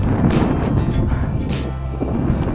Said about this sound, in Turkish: rüzgar tersimize esiyor